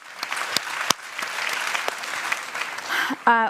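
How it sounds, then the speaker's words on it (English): A crowd gives another round of steady applause at the Circularity 23 event, a dense even wash of clapping with a few sharper claps, ending in a short burst of a voice or tone. "Yeah, another round of applause."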